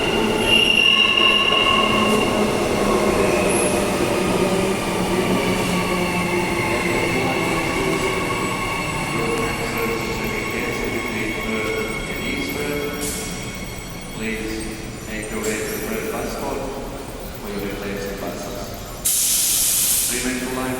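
Train arriving at platform 8 of Perth station during a line closure, wheels squealing loudly in sustained high-pitched tones over rumbling rail noise, with a hissing burst near the end and faint voices in the background.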